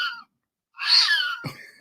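A Halloween guitar effects pedal lets out a short synthetic cat meow after a brief silence, followed by two quick low thumps, close and fairly loud.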